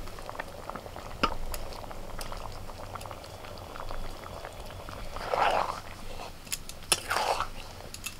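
Water boils in a pot for eggs, a fairly faint, continuous bubbling with scattered pops and crackles and a couple of louder surges of churning.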